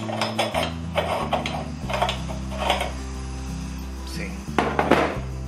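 Rusted manual meat grinder cranked by hand through pork, a rhythmic rough grinding and creaking with metallic clanks and knocks, close and fairly loud, with a low hum underneath and voices speaking quietly.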